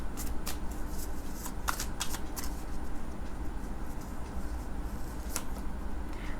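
Tarot cards are shuffled and drawn, giving a steady, close riffling rush of cards with a few sharper snaps along the way, and no one talking.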